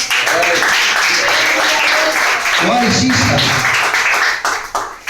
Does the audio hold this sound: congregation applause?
yes